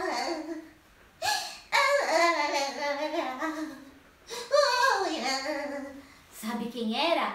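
A voice imitating a child's sobbing cries for a children's story, several wailing, wavering bursts separated by short pauses, close and expressive.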